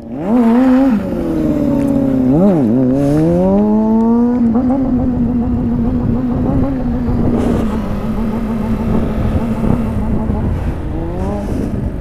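A loud pickup truck engine running close by, revving up and down at first, then settling into a steady drone with talk over it.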